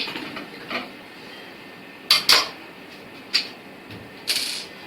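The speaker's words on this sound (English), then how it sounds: "Two screws are removed, unscrewed now to remove this front panel." Screws being removed from the front panel of an air cooler: several sharp metallic clicks and rattles, close and distinct, spaced irregularly over a quiet background.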